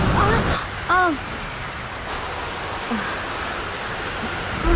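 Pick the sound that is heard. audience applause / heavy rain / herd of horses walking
heavy rain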